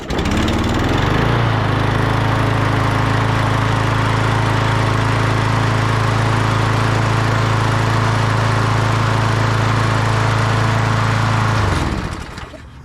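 A lawn mower engine with its original carburetor cranks and catches, then runs loud and steady at a constant droning pitch for about ten seconds before cutting off abruptly, close up and with no talking.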